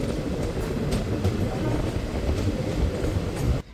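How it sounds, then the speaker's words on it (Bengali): A passenger train on the Kolkata–Digha line rolls into Tamluk station, a steady loud rumble of wheels on rails with faint clickety-clack from close by, cutting off abruptly at the end. "আমাদের ট্রেন তমলুক স্টেশনে ঢুকছে।"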